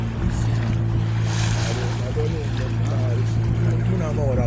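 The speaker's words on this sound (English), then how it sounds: "on the boat on the Atlantic coast" Boat crossing the Atlantic coastal waters off Conakry, Guinea, toward the islands: a steady engine drone with wind and water wash throughout, loud and close, with voices faintly mixed in.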